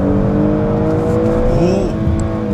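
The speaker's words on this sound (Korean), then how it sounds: "자, 스포츠 모드에 바꾸고 한번 타보겠습니다." Kia Stinger 3.3 GT AWD in sport mode, its engine pulling hard with a loud, close, continuous droning growl whose pitch shifts slightly as it accelerates.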